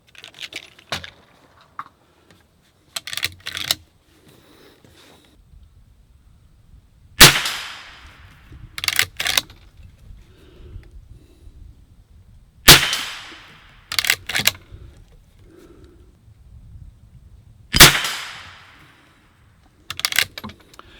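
Rifle shots fired with a Skinner sight at a steel plate 50 yards away: sharp single cracks come widely spaced, each followed by a faint metallic ping, with handling clicks and rattles between them.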